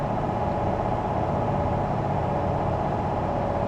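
A truck engine in American Truck Simulator labors under heavy load, giving a steady, loud low rumble with a constant droning tone throughout and no talk.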